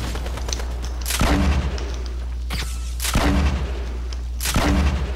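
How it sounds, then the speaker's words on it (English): Three loud booming shots from a flare gun in Fortnite, spaced about two seconds apart, each a sharp blast with a rumbling tail over a constant low in-game drone. "did you shoot a flare into the building I'm in?"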